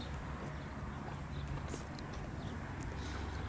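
Horse hooves clip-clop steadily on the ground at a horse-keeping yard where mares and stallions are kept, a close, continuous rhythm over a faint background hum.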